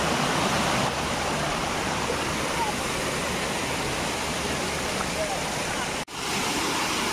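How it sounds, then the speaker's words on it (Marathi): A stream flowing deep below a monsoon trekking path toward Rajmachi fort gives a steady, loud broadband rush of water that continues unbroken throughout. "हा ओढा बघू शकता खाली"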